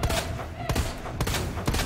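Handgun fire in Resident Evil 2 Remake: several loud, sharp shots in quick succession, close and dominant over the game's background ambience.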